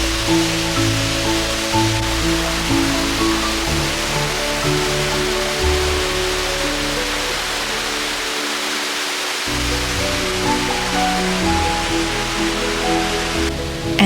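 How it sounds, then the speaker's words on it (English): Waterfall near Taipei, Taiwan on a hot, humid day: a steady, full roar of falling water that holds level for the whole stretch, close and continuous, with no voices. "we walked to see the waterfall nearby"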